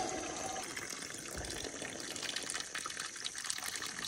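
A steady, continuous gush of spring water pours from a 1-inch supply line into a measuring container outdoors, a dense splashing rush at a constant level with no voices.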